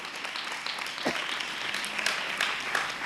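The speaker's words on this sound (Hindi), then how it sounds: "ताली बजा के खुदा के महिमा करे।" Church congregation clapping in praise, a moderate steady patter of many hands across a hall, fairly soft and uninterrupted.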